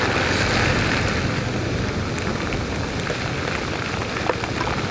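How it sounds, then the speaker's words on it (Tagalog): Heavy rain pours down during a typhoon in San Jose del Monte, making a dense, unbroken hiss of drops with wind and no voices. "Lalo lumakas yung ulan."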